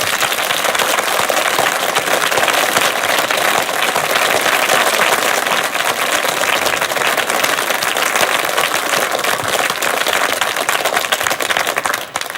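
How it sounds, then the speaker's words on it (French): Loud, sustained applause from a large audience at a 1974 Swiss televised interview with Dalida, dense and continuous clapping that keeps going throughout. "nous avons les mains libres pour l'applaudir"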